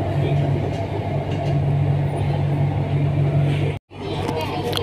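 Steady low rumble of a moving train heard from inside a passenger car, a continuous droning hum with a brief cut near the end before the rolling noise resumes.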